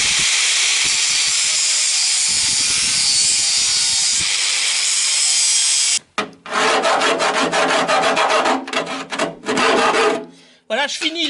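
Hand file rasping against steel sheet metal being shaped, first a steady rubbing stretch, then a quicker run of harsh, rhythmic strokes with short pauses, loud and close.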